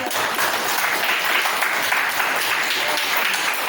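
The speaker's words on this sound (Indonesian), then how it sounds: "Tepuk tangan dong" Classroom audience of students applauding after a presentation in a computer systems lesson, a dense, continuous burst of clapping at close range, steady and loud.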